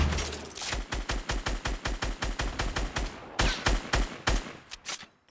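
Rapid grenade launcher shots in a Fortnite Season 6 duo-versus-squad match, about twenty sharp booming reports in a steady quick rhythm, then a short pause and a few more irregular blasts, loud and close with no talk.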